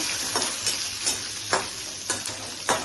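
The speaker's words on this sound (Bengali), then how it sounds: "এইভাবে কাঁচা লঙ্কা দিচ্ছি, আর সাদা তিল আর সাদা জিরা এইভাবে একটু দিয়ে দেবো, দিয়ে ফ্রাই করে দিচ্ছি" Green chilies, white sesame seeds and cumin fry in hot oil with a steady close sizzle, while a spoon stirs and scrapes the pan in several distinct strokes.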